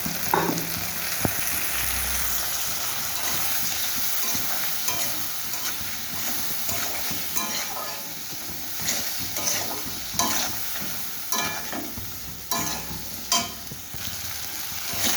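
Thick spice paste of cumin, chili and turmeric powders with a little water frying and being stirred in a pan, a steady close sizzle with scraping stir strokes throughout and no talking.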